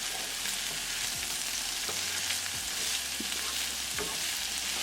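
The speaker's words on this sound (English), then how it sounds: "Now bring the gas to high and mix it well." French beans and paneer frying over high gas, stirred with a spatula; a steady, close sizzle runs throughout, broken by a few soft scraping strokes against the pan.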